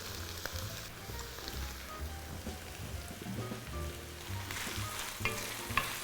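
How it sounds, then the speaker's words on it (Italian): Diced pancetta and onion sizzle and crackle steadily in a saucepan, a close, fairly quiet frying hiss with occasional pops and stirring, no voices. "Ora aggiungo la pancetta, un pochino mangiata, direttamente nella casseruola insieme alla cipolla."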